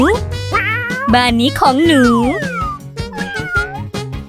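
A cat, one of several found at a doorstep, meows in drawn-out, pitch-bending cries close by, mixed with a child's speech and other voices in a lively indoor scene.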